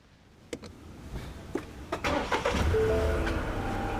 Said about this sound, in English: This is the key we have programmed, so let's see if this starts the car.